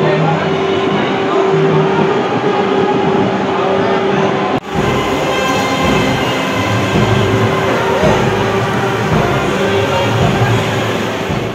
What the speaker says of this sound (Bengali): কি সুন্দর দেখুন, স্যাফরন কালারের বন্দে ভারত এক্সপ্রেস।